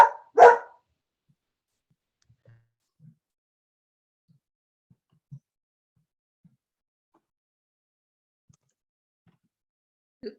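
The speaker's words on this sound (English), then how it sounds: "Is that dog going to be with us?" A puppy lets out a couple of sharp, loud barks in quick succession right at the start, followed by near silence with only faint scattered thumps.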